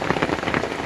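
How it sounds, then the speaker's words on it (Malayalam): Steady rain falls on surfaces in a Kerala village, a close, loud patter of dense drops in a brief burst. "ഏതായാലും ഇന്നത്തെ മഴ നല്ല മനോഹരമായി പെയ്തുകൊണ്ടിരിക്കുകയാണ്."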